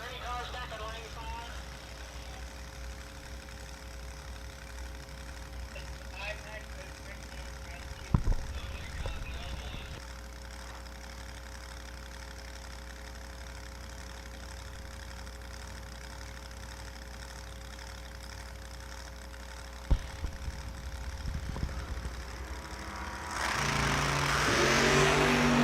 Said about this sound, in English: Here comes the blower.